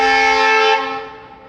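A vehicle horn blares with a loud, bright, steady tone near a railway setting, holding for under a second before cutting off and fading into a brief tail.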